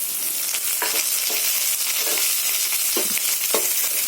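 Chopped tomato sautéing with softened onions in a pan for a Tamil vathal kuzhambu, with a steady close sizzle and several soft scraping stirs spread through the clip.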